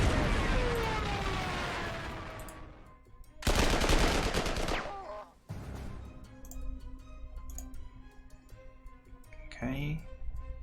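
Bombing attack in Panzer Corps, a wartime strategy game: a rumbling blast that decays, then a sharp burst of rapid gunfire and further explosions, with someone talking faintly at times.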